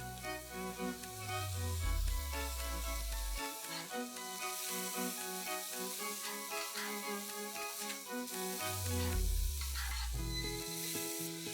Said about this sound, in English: I've got 3/4 kg of mutton mince. I'm going to add this and fry it.